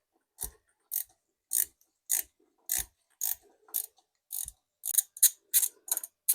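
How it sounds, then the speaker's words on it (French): A 4 mm Allen key works loose an M4 bolt on an AdBlue urea injector, giving a string of about a dozen sharp, close ratcheting clicks in an uneven rhythm, with no talking. "Là, c'est une petite clé Allen de 4, c'est du M4, c'est rien de spécial, hein. Je vais le desserrer."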